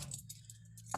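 A set of car keys gives a brief, faint metallic jingle, with a small clink near the end.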